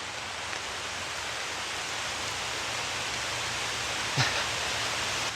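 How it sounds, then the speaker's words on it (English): Heavy rain pours outdoors as a steady, dense hiss with a low rumble underneath, continuous and even throughout, with no talking. "It is literally pouring rain right now."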